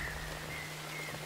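Steady rain falling on a surface, an even wash of droplet noise with a low hum beneath and a faint whistle-like tone drifting above, continuous for a short moment.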